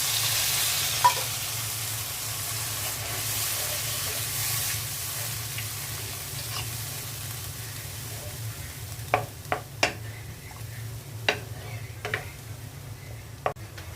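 A spice paste with salt, panch phoron and mango pickle for a pabda fish curry fries in a pan with a low steady sizzle, while a spoon stirs and scrapes in several sharp clicks toward the end.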